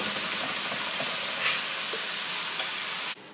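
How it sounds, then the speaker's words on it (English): Chopped onion sautéing in a pan alongside carrots and green beans, giving a constant loud close sizzle with faint utensil taps, cutting off abruptly near the end. "These have been in here long enough for me to saute the onion"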